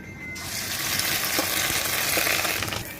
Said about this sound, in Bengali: এবারে মাছের ডিমটা ভাজা হবে